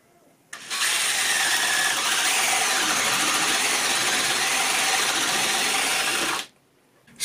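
A power drill with a spade bit bores into timber, a loud steady broadband whir running continuously for about six seconds before cutting off abruptly, with no voices.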